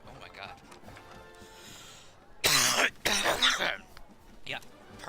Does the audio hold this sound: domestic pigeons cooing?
no